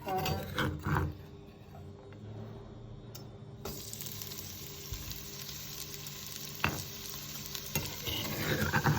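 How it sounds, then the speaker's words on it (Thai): Chicken offal stir-roasts in a little oil over high heat, a low sizzle with scraping stirs and clatter, and a brief spoon knock partway through. "น้ำมันนิดนึงนะคะ คั่วให้มันหอมเนาะ"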